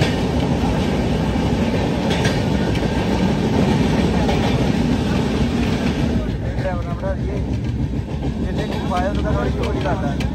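Steady rail clatter and rumble inside a moving train, loud and continuous throughout, with faint voices talking in the carriage beneath the rolling noise.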